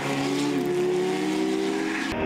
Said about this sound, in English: Dane van Heerde going at it side by side with Van der Venter.